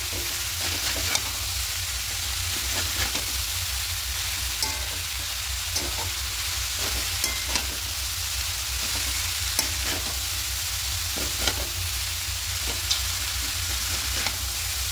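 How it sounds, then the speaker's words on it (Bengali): Cabbage is stirred and fried with spices for a vegetarian Bengali ghonto, giving a steady close sizzle with repeated scraping strokes of the spatula throughout and no talk. "বাঁধাকপি দিয়ে মিশিয়ে নেব সমস্ত মশলার সঙ্গে।"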